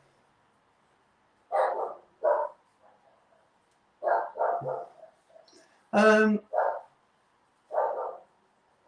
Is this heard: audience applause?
no